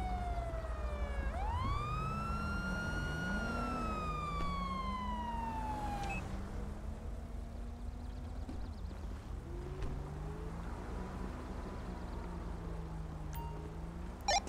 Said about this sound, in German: ich stelle hier schnell auch das Martinshorn ab